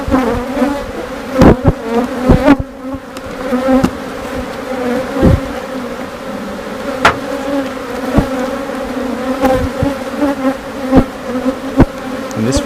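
Honeybees buzz loudly and continuously at close range over an open nucleus hive frame, a dense droning hum with occasional sharper passes as individual bees fly near.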